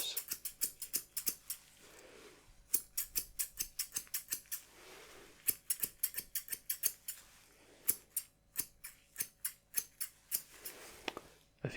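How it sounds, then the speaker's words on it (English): Thinning scissors snip close up through thick hair in a barbershop setting, sharp metallic clicks coming in quick bursts of rapid cuts separated by short pauses, with no talking. "And I will just take my thinning scissors right here."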